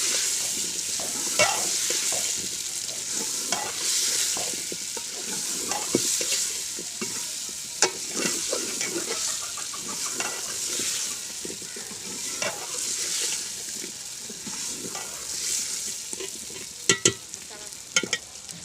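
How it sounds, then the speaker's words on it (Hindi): Washed, cut potatoes are stirred into spices frying in a pan for a potato and peas curry, with a loud continuous sizzle and repeated scraping spoon strokes throughout. "तमाम चीज़ें भून लेने के बाद अब हम इसके अंदर आलू शामिल करेंगे"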